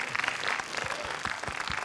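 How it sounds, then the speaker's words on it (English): An audience at a science museum panel discussion in London breaks into applause, a dense patter of clapping with a few low thumps, heard throughout. "Round of applause."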